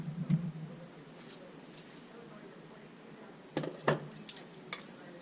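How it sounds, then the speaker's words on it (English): A lid comes off a pot of chicken soup with a few light metallic clinks and taps, sparse and close, amid quiet kitchen handling noises. "I'm going to get the lid off"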